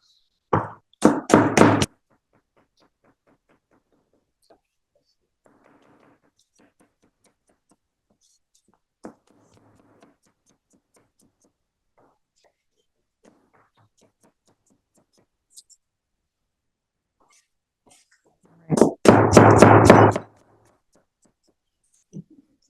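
Knife cutting apples on a cutting board, slicing or small-dicing a red delicious apple in a teaching kitchen. There are two short bursts of rapid, close chopping taps, with quiet pauses in between.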